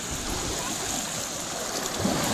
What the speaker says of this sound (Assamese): নদীৰ মাজেদি পাৰ হৈ আছোঁ